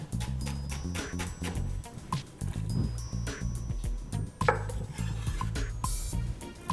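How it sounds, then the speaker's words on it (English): Knife chopping vegetables into large chunks on a board for risotto, a steady run of sharp close knocks throughout over a low rumbling background. "We are going to cut everything in larger chunks so it can release all the flavor."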